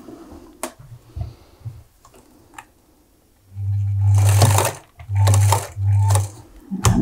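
Sewing machine stitching a scrunchie seam in naturally dyed fabric, with three loud bursts of rapid mechanical whirring, one long run followed by two shorter back-and-forth runs, after a quiet stretch of faint handling clicks.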